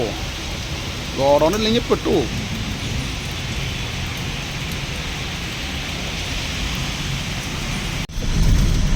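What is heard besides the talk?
rain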